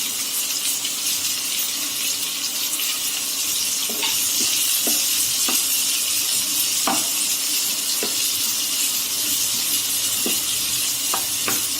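Chopped onion and green chili sauté in a hot oiled pan for athalakkai poriyal, giving a steady close sizzle with occasional clinks and scrapes of stirring and no talking.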